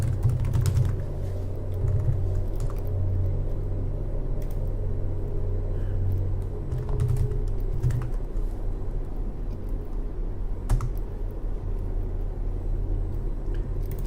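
Computer keyboard typing with a scattering of soft key clicks over a steady low rumble, fairly quiet and continuous throughout.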